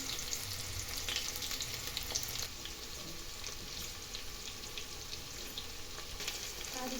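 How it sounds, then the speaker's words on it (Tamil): Onions frying steadily in a pan while being stirred until brown, as part of making tomato rice, with a continuous close sizzle, occasional stirring scrapes and a brief tap-water sound. "இதோட வெங்காயம் சேர்த்துக்கலாம் வெங்காயம் நல்லா ப்ரௌன் கலரில் வர வரைக்கும் நல்லா கலந்து விட்டுக்கோங்க"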